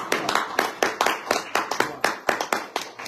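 A small audience at a Hebrew Israelite gathering claps, a sparse, evenly paced run of a dozen or so sharp, close claps rather than a full crowd roar.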